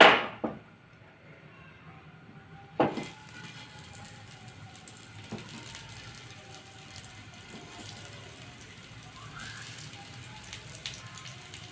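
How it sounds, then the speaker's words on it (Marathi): Spinach vadi pieces shallow-fry in a little oil, with a soft, steady crackle and spatter after two sharp knocks near the start. "ह्या वड्या तुम्ही तळून पण घेऊ शकता मी इथं परतून घेत थोड्याशा तेलावरती"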